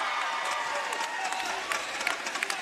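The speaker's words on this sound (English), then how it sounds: "The crowd goes wild, as expected." Basketball crowd at a university league game between Melbourne and Tasmania, cheering loudly and steadily throughout after a made shot, a dense roar with scattered claps and shouts rising near the end.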